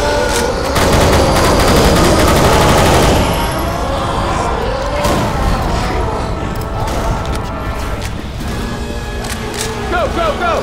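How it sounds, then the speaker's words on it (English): Loud, rapid assault rifle fire in Left 4 Dead 2 rattles in dense sustained bursts, heaviest at first and then continuing more sparsely. Clanks and other game noises sit underneath, and voices are heard. "Assault rifle."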